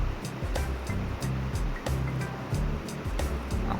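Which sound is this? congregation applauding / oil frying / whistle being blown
oil frying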